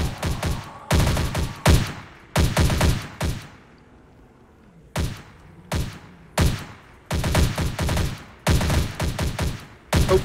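Rapid bursts of automatic gunfire in the co-op shooter Jaws of Extinction, loud and close, with several clustered volleys broken by a short pause near the middle.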